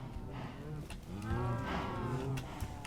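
Cows in a Minecraft survival world farm let out several overlapping low, drawn-out moos, fairly quiet and close together across a few seconds with no talking.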